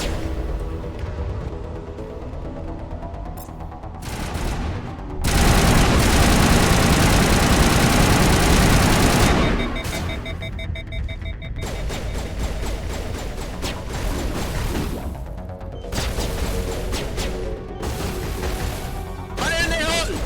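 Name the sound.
rocket launcher blasts in Mass Effect video game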